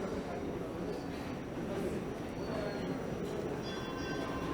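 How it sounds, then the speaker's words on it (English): A Toronto streetcar rolls past on a spring walk near Spadina, a steady broad rumble with faint metallic squeals and a ringing tone, moderately distant, heard alone. "There's a streetcar."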